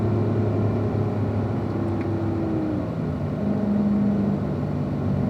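A Chevrolet Corvette C7 Z51 engine drones loudly and steadily on a race track, its pitch climbing and then dropping as it shifts up a gear, heard from inside the car.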